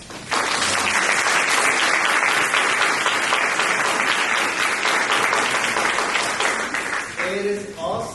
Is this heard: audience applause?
yes